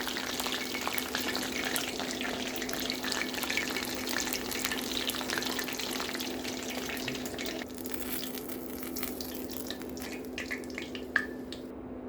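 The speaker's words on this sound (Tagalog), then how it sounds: "And fry it again for another 3 minutes." Chicken bites sizzle and crackle steadily in hot oil in a pan during a second frying, a dense continuous hiss with faint drips, ending in one sharp clink near the close.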